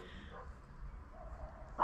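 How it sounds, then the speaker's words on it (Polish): Dogs bark in the distance, mostly faint and muffled, ending in one louder, sharper bark right at the close. "Psy oszalały."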